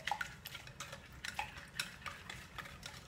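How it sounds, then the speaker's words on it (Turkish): Sugar and eggs being whisked by hand with a wire whisk in a bowl for a light dessert, a steady rhythmic scraping and light clinking that is quiet, close and continuous, with no talking. "Şeker ve yumurtamızı çırpıyoruz."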